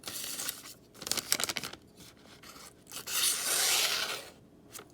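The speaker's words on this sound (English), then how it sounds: "it's going to go ahead and cut receipt paper" A Civivi Elementum folding knife with a D2 steel blade slices receipt paper: a few short, close rasping cuts, then a longer swishing stroke, quiet and alone.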